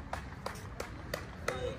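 Sharp, evenly spaced hand claps, about six in under two seconds, ring out during a bodyweight chest, arm and back workout doing dips, with voices talking over them.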